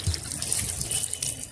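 Water gushes from a freshly opened tap at a temple wash area in Birbhum, a brief, close, steady splashing rush.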